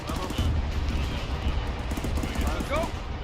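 Rapid gunfire crackles in an ArmA III military training mission, repeated sharp shots at a moderate distance beneath near-constant radio chatter and talk from players.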